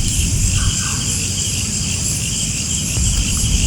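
Steady insect chirring fills an abandoned factory in Cavite at night, a continuous high buzzing drone with faint low rumble beneath and no talk.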